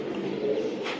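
Racing club pigeon, a bird offered for sale, coos in a low steady murmur that carries on throughout, close and moderately loud, with no talk over it.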